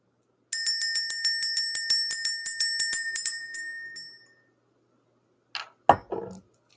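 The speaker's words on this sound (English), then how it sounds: "Let's go ahead and ring this bell." A small ritual bell rings in a quick run of about fifteen bright, clear strikes that fade out, followed after a pause by a couple of softer handling knocks and rustles.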